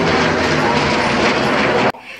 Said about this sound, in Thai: ส่วนใหญ่เขาจะมีการโชว์เครื่องบินเจ็ต